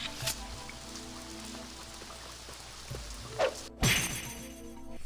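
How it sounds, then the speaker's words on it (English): Steady rain patters in the PS2 role-playing game Magna Carta: Tears of Blood, a soft continuous hiss under a faint musical tone, broken by a few brief louder knocks and a sharp crash near the end. "Oh, and now it's raining."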